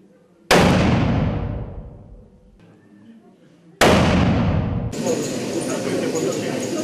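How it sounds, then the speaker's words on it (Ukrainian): Two sharp, loud gunshots from a Simonov carbine at an indoor school shooting range ring out a few seconds apart, each echoing and decaying, the second followed by a steady noisy hiss. "Разом зі старшокласниками стріляв і міський голова Олександр Мамай."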